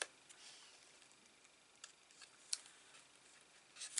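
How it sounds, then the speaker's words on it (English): Scissors make a few faint, sparse snips while cutting paper for a cigarette box craft, with quiet near-silence between the cuts. "And then I can snip down to that."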